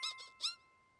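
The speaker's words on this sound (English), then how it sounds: "That pumpkin squeaked." A squeaky toy pumpkin in a children's Halloween cartoon gives two quick high squeaks close together, then a third louder squeak a moment later, each sharp and bright with nothing else underneath.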